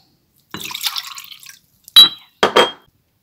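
Water is poured from a container into a glass bowl in a home kitchen while a chicken and mixed-vegetable dish is being prepared, a brief splashing pour followed by two sharp clinks and drips, close and fairly loud.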